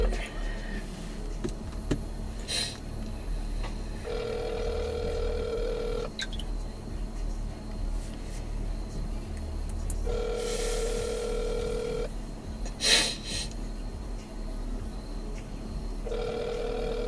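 An outgoing telephone call rings back, repeating about two-second tone bursts separated by roughly four-second gaps, with some soft talk early on and background murmur.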